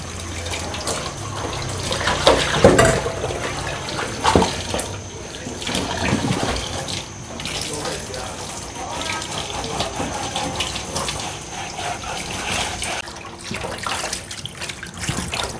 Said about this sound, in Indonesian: ini dicuci lagi pakai garam